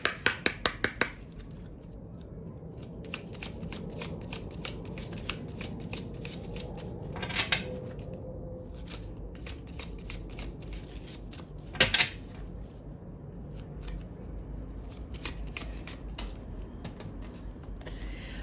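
Oracle cards are shuffled by hand, with crisp riffles and soft card slaps recurring over a low room hiss, a few sharper clusters of flicks standing out, close and without talk.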